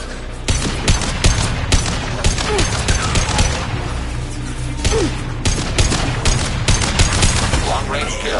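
Heavy sustained gunfire rattles through a combat scene in the video game Mass Effect 2, with dense overlapping bursts and sharp cracks repeating loudly and nearly continuously, punctuated by heavier booms.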